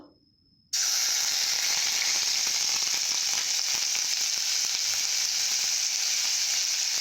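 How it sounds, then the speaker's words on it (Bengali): Raw onion hits hot oil in a pan with a sudden loud sizzle after a short quiet start, then keeps up a steady, strong hissing fry with small crackles. "কাঁচা পেঁয়াজটা দিয়ে আমি ভালোভাবে ভেজে নেব"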